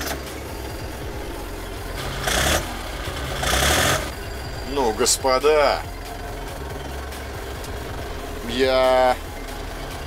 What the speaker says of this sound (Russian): И запускаем трактор.